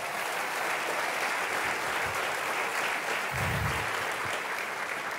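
A church congregation claps steadily for several seconds, a dense and continuous wash of applause that fills the room, with a few low thumps partway through.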